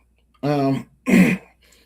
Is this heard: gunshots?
no